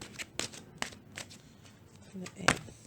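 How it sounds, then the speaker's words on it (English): Wisdom of the Oracle cards being shuffled and pulled during a tarot reading, a rapid series of crisp riffling flicks and slaps close up, ending in a sharper snap, with a voice briefly present. "I'm going to go ahead and pull a Wisdom of the Oracle card here for Scorpio."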